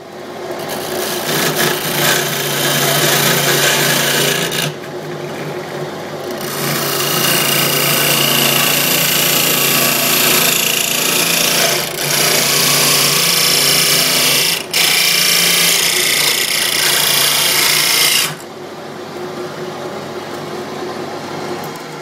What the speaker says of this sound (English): now I'm just gonna do the same on that side, and then you should see it just pop off